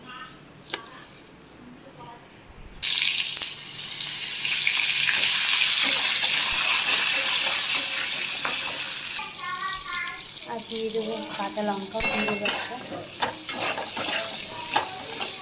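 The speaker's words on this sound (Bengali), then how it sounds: "বড়ি ভাজতে দিয়ে দিয়েছি বড়িটা ভাজা হচ্ছে" Lentil badi fry in a hot pan with a loud, steady hiss and crackle that rises after a quiet start, while someone talks over the cooking and a few clinks sound near the end.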